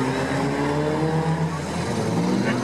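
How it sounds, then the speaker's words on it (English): Demolition derby car stalling at a state fair during a women's event, its engine sputtering and droning steadily with a rough, labored tone amid arena noise. "That car is stalling."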